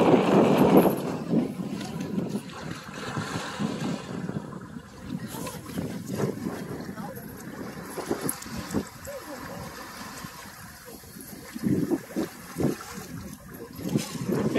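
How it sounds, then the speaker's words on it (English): Wind rushing across a 2005 Hunter 38 sailboat under sail at about 12 knots on Puget Sound, steady buffeting and microphone gusts with water swishing along the hull, a voice talking intermittently over it. "12 knots of wind coming across the boat"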